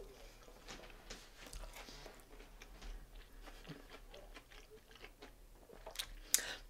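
Someone chewing crunchy deep-fried weenies on a stick seasoned with Cajun spice, soft close bites and crunches in an irregular rhythm over a quiet background, no speech.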